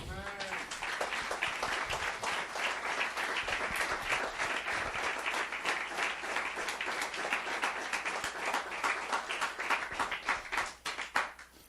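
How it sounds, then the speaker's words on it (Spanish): A church congregation claps together during a Spanish-language sermon, a rapid, fairly distant ongoing patter of many hands that continues steadily and thins out near the end. "Dale un aplauso al Señor."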